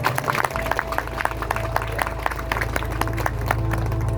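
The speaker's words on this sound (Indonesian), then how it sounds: "Tepuk tangan yang meriah." Audience at an Islamic preaching and cultural gathering breaks into applause, a dense run of individual claps close by with a low background murmur throughout.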